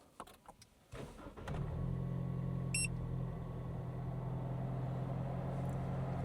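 A Jeep engine with a new exhaust cranks after a few clicks, catches and settles into a loud, steady low idle rumble heard up close.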